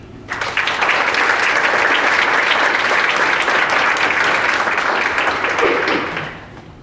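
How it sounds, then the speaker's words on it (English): An award ceremony audience applauds loudly, a dense, steady wash of clapping that lasts several seconds before fading out. "Another round of applause, please."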